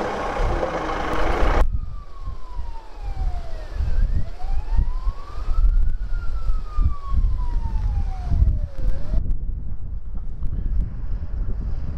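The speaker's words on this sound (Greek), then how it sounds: "Ένα ακόμα όχημα της πυροσβεστικής υπηρεσίας ερπιστηροφόρο καταφτάνει στον ποταμό." A tracked fire service vehicle arrives at the Keritis river during a full-scale emergency exercise, with a wailing siren sweeping up and down over steady wind and engine rumble, loud and continuous outdoors.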